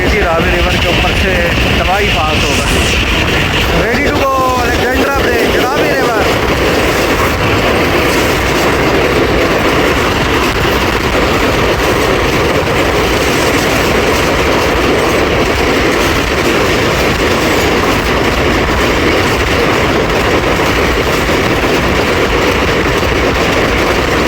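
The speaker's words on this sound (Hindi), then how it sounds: "चलें जी, गुजरात से निकल गई हमारी ट्रेन" The Tezgam Express passes over the Alexandra Bridge across the Ravi River with a loud, steady rumble and a rhythmic clatter of wheels, close and constant throughout. Brief squeals rise early on.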